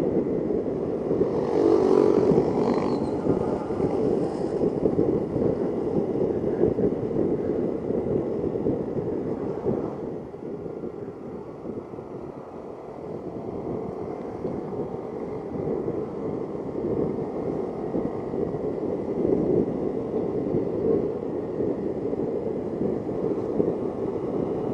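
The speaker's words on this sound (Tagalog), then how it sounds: "Malakas tong motor na to." A Suzuki Gixxer 155 FI motorcycle climbs uphill on a solo ride, its engine droning steadily under heavy wind rush throughout, with no talk.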